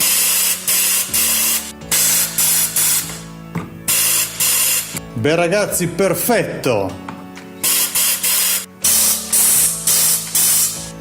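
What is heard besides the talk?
water spraying through washing machine inlet valve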